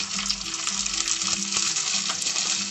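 Chopped small onions, about 60 grams, frying in hot oil in a pan while making Sri Lankan sothi coconut milk soup; a steady, close, dense sizzle with faint stirring clicks runs throughout with no talk.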